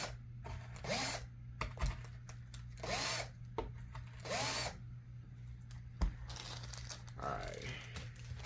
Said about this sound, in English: Just kind of clear the holes with the drill just to make it easier to put this on.